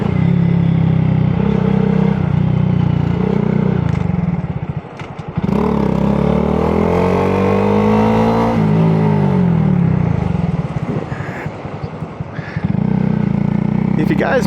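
A 2022 Honda Grom motorcycle accelerates hard in first gear close to the microphone, its loud engine rising in pitch, easing briefly, then revving up again over a steady, dense exhaust drone.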